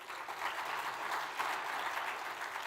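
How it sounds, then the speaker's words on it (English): Audience applause at a leadership summit, a dense, steady wash of clapping from a large crowd that holds at an even level throughout. "Let's give him a round of applause."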